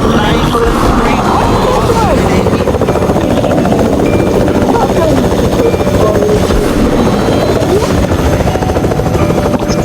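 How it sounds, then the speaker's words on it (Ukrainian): Helicopter flying in the video game Fortnite, its rotor and engine noise a loud, steady, continuous drone with no break from start to end. "ми беремо гелікоптер"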